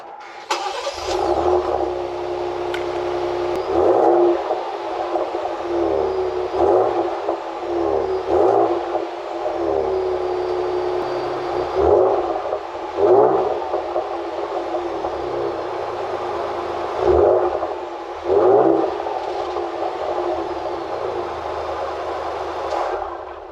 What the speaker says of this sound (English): This is the exhaust on the Raptor.